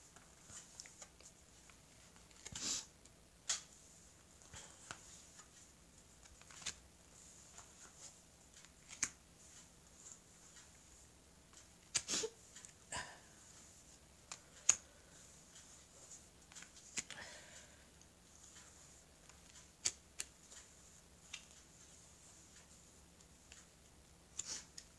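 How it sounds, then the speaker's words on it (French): Oracle cards are handled and laid out on a table, with soft scattered taps, flicks and shuffling rustles spread across a quiet stretch, close but faint, with no talking. "je vais recouvrir ce jeu avec les cartes d'Isawat"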